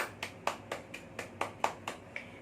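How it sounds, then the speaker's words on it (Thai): Children in a classroom clapping for themselves: a steady run of about nine evenly spaced claps, crisp but fairly soft, with nothing else over them. "ปรบมือให้ตัวเองดังๆเลยค่ะ"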